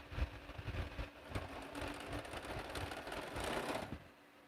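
A sewing machine stitches quilt block seams in a steady, close, fairly loud run of rapid needle chatter lasting a few seconds, with no voices.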